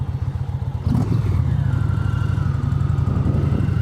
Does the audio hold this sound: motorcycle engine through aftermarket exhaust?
yes